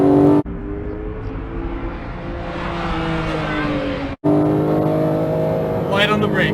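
A Porsche 911 GT3 991.2 accelerates hard on a race track at Exotics Racing, Las Vegas, its engine note rising loud from inside the car with a brief cut at a gear change, under a voice giving instructions.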